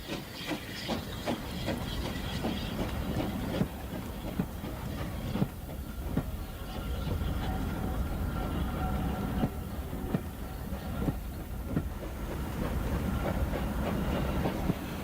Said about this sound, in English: She's leaving Much Fiddler Yard with a long goods train